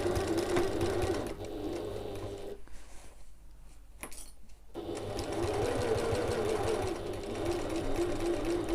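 A sewing machine stitches and back stitches a seam on an evening bag, running in two steady, close bursts with a quiet pause between them.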